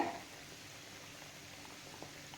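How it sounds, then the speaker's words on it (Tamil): Potatoes boiling in plain water in a pot, a faint, steady low bubbling simmer that carries on without pause and with no talk. "உருளைக்கிழங்கு தண்ணி ஊற்றி வேக வச்சுருக்கேன்"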